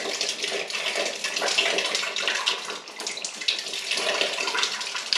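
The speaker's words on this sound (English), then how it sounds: "The pump trying to do the hot water." A hot-water supply pump in a household plumbing system runs with a continuous rushing, hissing flow of water throughout, steady and fairly close, with no talking.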